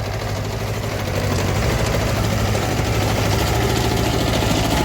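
A Kubota Japanese tractor engine with a potato planter hitched behind runs steadily at idle, a loud, continuous low rumble with vibration that holds evenly throughout and has no voices over it.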